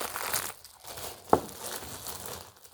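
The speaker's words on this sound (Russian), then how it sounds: "Зараз ми все складемо в пакет" A plastic bag crinkles and rustles close by as candies and a small jar are packed into it, with soft handling noises and one sharper crackle partway through.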